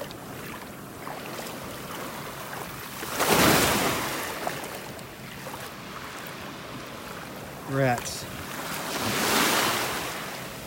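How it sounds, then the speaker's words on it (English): Ocean waves break on a beach in North Naples, Florida, in slow swelling roars close by, mixed with wind buffeting and one short spoken word. "the waves are breaking right here"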